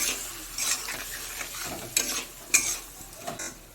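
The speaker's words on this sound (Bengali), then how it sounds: "দিয়ে মশলাটাকে ভালো করে একটু কষিয়ে নেব" Cumin-spiced paste with a splash of water, for a fesha fish jhal, is stir-fried in a pan: close, sizzling hiss broken by several sharp scrapes and clanks of a spoon against the pan.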